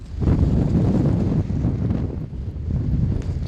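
Strong, steady wind roars across the open Greenland ice sheet, buffeting the microphone with low, gusty rumble throughout and no voices.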